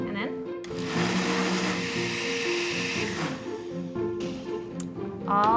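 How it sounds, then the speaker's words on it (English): A blender with a mason jar fitted in place of its jug whirs loudly as it blends peanut butter coleslaw dressing. The motor runs steadily for several seconds and then stops, with people talking around it. "now I just pop this onto our blender"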